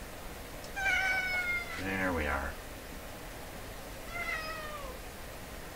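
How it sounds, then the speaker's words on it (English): A cat meows twice indoors, a drawn-out cry near the start and a shorter one later, while a person speaks briefly between them. "That was a silent meow."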